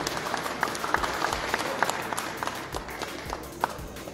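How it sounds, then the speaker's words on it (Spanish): Moderate crowd applause at a political gathering in Bolivia, with distinct individual claps standing out over a steady background wash. "Un fuerte aplauso, hermanos"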